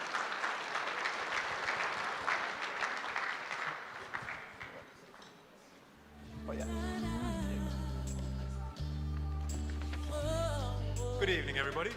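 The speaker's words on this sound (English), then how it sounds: "A round of applause for him, please." Audience applause fills a hall at a corporate tenth-anniversary gala, loud and thick for about five seconds, then fades as bass-heavy walk-on music swells up and carries to the end.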